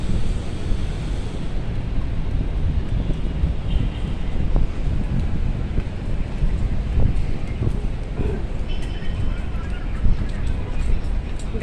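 Steady outdoor wind buffets the microphone with continuous low rumbling gusts near a parking area, loud and unbroken throughout, with a voice talking intermittently beneath it.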